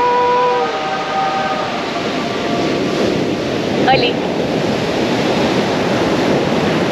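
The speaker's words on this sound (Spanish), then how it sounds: "Escuchen, escuchen el poder del mar." Sea waves breaking on a beach at Todos Santos, Baja California Sur, a steady loud wash of surf rushing and hissing without pause, with a brief voice exclaiming partway through.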